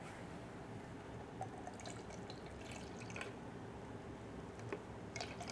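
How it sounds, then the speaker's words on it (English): Liquid nutrients poured into Alocasia plant containers give faint, soft trickling and dripping splashes, with a few slightly louder drips near the end and no voices. "I have a fresh thing of nutrients here, so I'm going to add this into each container."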